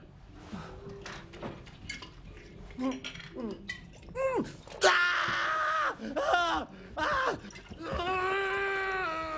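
A person screams in several loud, drawn-out bursts amid clattering dishes and scattered voices in a tense film scene, the screams growing stronger and longer toward the end.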